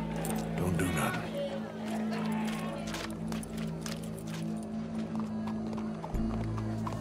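Horse hooves in Red Dead Redemption 2 clop along in an irregular trot beneath game ambience and a steady tonal hum, moderately close, with a brief whinny-like sound early on.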